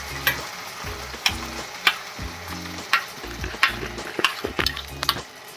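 Tomato paste frying in a pan for paneer biryani, a continuous close sizzle broken by repeated rhythmic scrapes and clinks of a spoon stirring, no voices.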